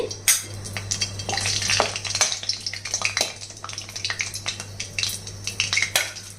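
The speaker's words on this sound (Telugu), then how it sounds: "ఒక నాలుగు గరిటలు ఆయిల్ వేసుకోవాలండి ఆయిల్ వేడైన తర్వాత ఒక బిర్యానీ ఆకు ఇలా తుంచేసి వేయాలి" A bay leaf torn into hot oil in a pot, frying with a busy sizzle and spatter, mixed with clinks and scrapes of a ladle against the metal cookware, close and continuous.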